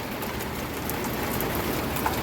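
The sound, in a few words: rain falling outside office windows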